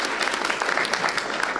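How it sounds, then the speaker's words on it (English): Audience applause at the closing session of an award ceremony, a dense burst of steady clapping from a large crowd, loud and continuous. "Once again, a big round of applause."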